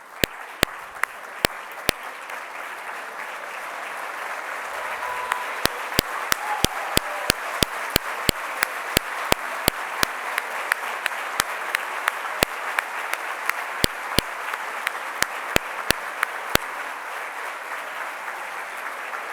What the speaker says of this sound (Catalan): fer-los un aplaudiment a les vostres famílies per tot el suport que us han fet